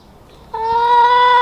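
A chicken in an urban homestead yard lets out a single loud, drawn-out call that starts abruptly after a brief quiet moment and holds steady, close by.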